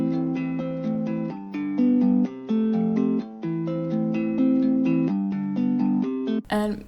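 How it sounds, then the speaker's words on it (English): Guitar chords from a Kontakt bank of sampled real guitar play a clean, steady melodic progression of sustained plucked chords in an even rhythm, loud and close with nothing else under them, ending in a brief noisy burst. "It's basically sampled real guitar,"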